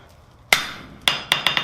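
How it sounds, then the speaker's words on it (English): A saw face hammer strikes a hardened hammer during blacksmith forging, giving one sharp ringing metallic clang followed by a quick run of four more bright strikes, close and alone. "Again, saw face hammer hitting a hardened hammer."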